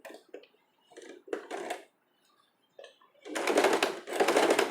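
A sewing machine runs double top stitching on a cami top, starting with short, stop-start bursts and then two longer, louder runs of steady mechanical whirring near the end.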